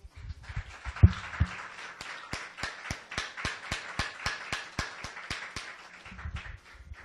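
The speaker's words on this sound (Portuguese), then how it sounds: "Vamos dar uma salva de palmas para o Senhor?" A church congregation breaks into applause, a steady run of roughly twenty evenly spaced sharp claps filling most of the stretch. Brief talk comes before it and returns at the end.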